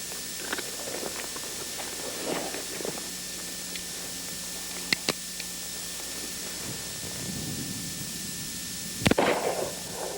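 Black powder cap-and-ball revolvers fired outdoors: a few sharp, loud reports spaced several seconds apart, the last followed by a brief rumbling tail, over quiet background noise.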